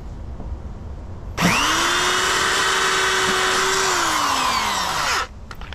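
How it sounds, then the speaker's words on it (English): A power drill whirs up sharply, runs steadily at high speed for about four seconds, then winds down and stops, loud and close. "Problem I've been having with this drill bit, I do a hole and it stays."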